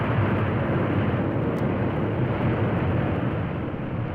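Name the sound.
airliner engines roaring with propellers reversed to brake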